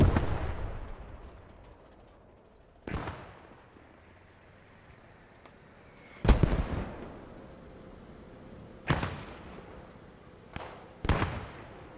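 Small howitzer artillery in the video game Post Scriptum fires in a series of sharp, booming shots spaced a few seconds apart, each decaying into a fading rumble, with no talking.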